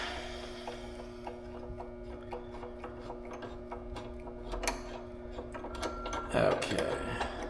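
Socket wrench ratcheting to loosen a screw while a Gio G2000 battery is being removed, with a rapid run of small, close metallic clicks under a low steady hum and a louder clunk near the end.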